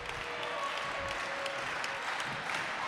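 A crowd at a women's college volleyball match claps and cheers steadily, a dense, continuous wash of applause filling the gym from start to finish.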